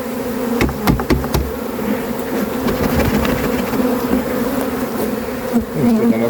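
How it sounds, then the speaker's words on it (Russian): A swarm of honey bees being shaken out of a box into a new hive, a dense, loud, continuous buzzing with a few sharp knocks early on as the box is struck. "Вот, остается нам только струсить пчелу."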